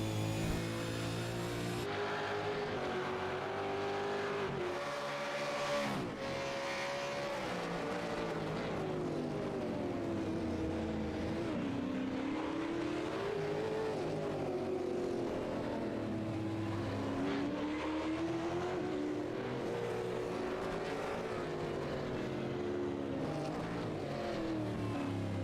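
GT Masters race cars battling in the final minute of a race, their engines giving a steady, loud roar with rising and falling pitch that carries on without a break and with no talk.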